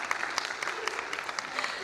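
An audience at a school annual function applauds, a steady patter of many hands clapping at moderate volume for a couple of seconds.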